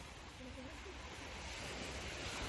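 Sea waves at the seaside in Silivri wash in a steady, faint broadband roar, with wind adding to the hiss and no distinct breaks.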